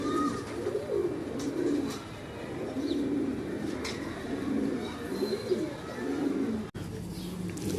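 Breeder pigeons coo in low, repeated rolling phrases, steady and fairly close, with a few faint chirps and a brief click near the end.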